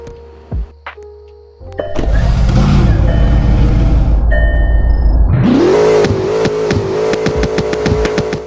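A 2017 Agner Tormenta supercar engine in a video game roars loudly, revving up and holding a high, strained pitch, then climbing again after a brief drop, close and continuous.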